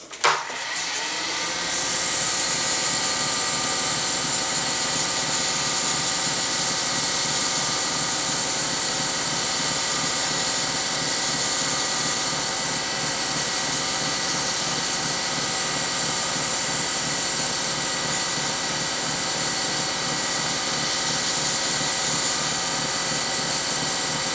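A power sander with 1000-grit paper works a CA finish, whirring continuously at a steady pitch after a brief start, a loud constant mechanical drone with no talking.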